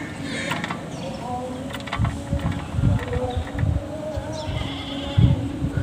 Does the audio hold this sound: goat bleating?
yes